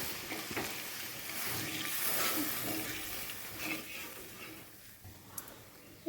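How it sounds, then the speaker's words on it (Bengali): Water splashed into spiced masala frying in a pan, with the chicken pieces already lifted out, sets off a loud, steady sizzle that swells and settles over about six seconds, close by. "এবার এই মশলার ভিতরে আমি একটু জল দিয়ে দেবো"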